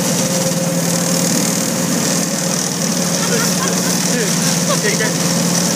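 Go-kart engine running steadily at close range, a loud continuous buzzing drone with a slight rise in pitch, under voices talking.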